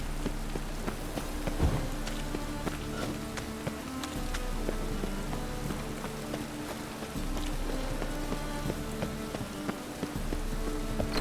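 Steady rain falling in a town in The Witcher 3 video game, a dense, even patter of drops on surfaces, with a low hum and faint musical tones beneath.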